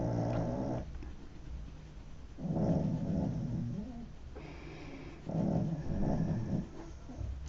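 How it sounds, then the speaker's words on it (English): A pet pug named Maisie snores nearby in slow, repeated rasping breaths, three loud swells separated by quieter pauses, steady and close. "Sorry if you can hear my dog snoring."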